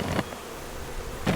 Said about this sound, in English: there's a whole bunch of wasps right there.